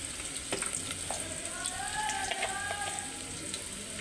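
Onion and chili powder frying in hot oil, a close, steady sizzle with light stirring clicks and a few bubbling pops, no voices.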